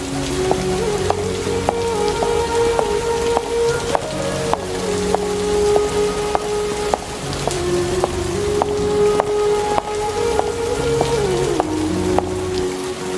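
Steady, loud rain hisses continuously throughout, with soft sustained music tones playing underneath.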